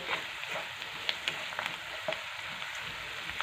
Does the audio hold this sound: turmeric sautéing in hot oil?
yes